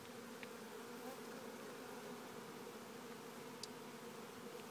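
New World Carniolan honey bees buzzing at their hive, a dense steady drone of many wings close by, fairly faint and uninterrupted, with no talk.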